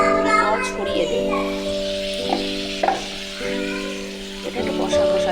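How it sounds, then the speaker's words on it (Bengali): Pointed gourd and potato pieces sautéed with sugar in a pan, a soft sizzle with occasional stirring scrapes beneath a steady hum, a voice speaking over it. "পটলগুলো দিয়ে আলুগুলো ভালো করে কষাবে। চিনি দিয়ে কষাবো ভালো করে।"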